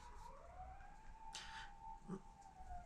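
An ambulance siren wails in a rising and falling tone on a city street, fairly faint and distant, over steady traffic hum, with a brief burst of passing noise partway through.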